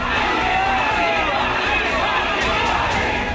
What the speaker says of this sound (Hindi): हजारों की भीड़ है और ये भीड़ जिस रेलवे स्टेशन पर जुटी है उसे बदलापुर रेलवे स्टेशन कहते हैं